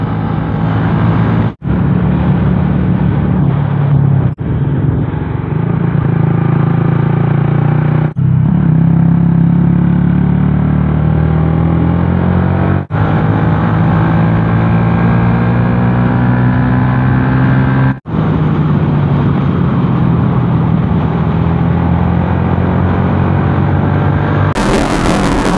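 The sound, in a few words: motorcycle engine running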